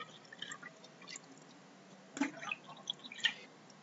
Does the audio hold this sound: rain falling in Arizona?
no